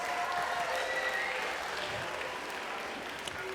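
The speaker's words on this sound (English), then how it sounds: "Please give them a round of applause." A middle school assembly audience applauds grade 6 students, a broad crowd clapping that is fuller at first and thins gradually, with faint voices mixed in.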